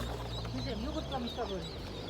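A laying hen clucks in short, uneven bursts amid the bustle of an outdoor poultry market in Taşköprü, Kastamonu, with other birds nearby and someone talking over it throughout.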